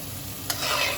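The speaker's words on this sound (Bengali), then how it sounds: "আর একটু হালকা লাল লাল করে ভেজে নেব, তাহলেই বড়াগুলো রেডি হয়ে যাবে।" Taler bora, palm fritters, fry in oil for a Janmashtami offering, a brief steady sizzle with a soft stirring scrape partway through.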